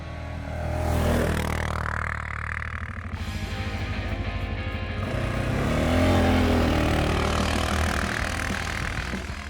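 A Sharmax QJ Motors Force 800 ATV drives through snow ruts, its engine droning at a moderate distance and swelling and fading as it moves, with scraping and clattering mixed in.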